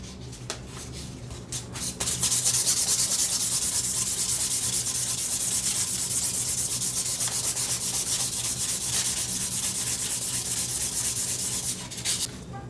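Steady hand sanding of a Damascus steel knife handle on a Scottish dirk with 400 grit sandpaper, a continuous close rubbing rasp with a few brief strokes at the start and end, no talking.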